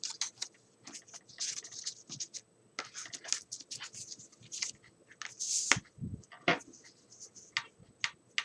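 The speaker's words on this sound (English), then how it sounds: "I can just use some tape. Put it along one side." Tape pulled and pressed along one side of an envelope, heard as close, quiet scratchy rips and crinkles in irregular bursts with small ticks and taps between them.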